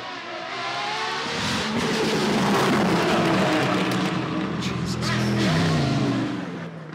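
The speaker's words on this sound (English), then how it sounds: "A lot of times they do burnouts in this area." A supercar revs hard through a burnout at Goodwood, its loud engine roaring and rising with tyre noise. A crowd murmurs underneath and a voice cuts in briefly.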